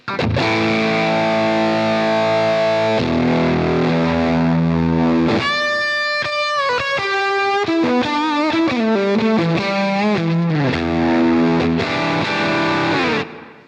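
Heavily distorted electric guitar through a Fjord Fuzz Embla fuzz pedal with the thickness control turned up plays chords and a bending lead run, thick and fuzzy, loud and continuous with no talking.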